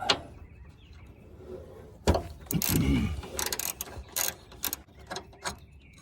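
A 14mm ratchet socket wrench rattles in quick, close bursts while removing the sway bar bushing bolts on a Honda Element. The opening is quiet, and the clicking clusters through the middle and later seconds without talk.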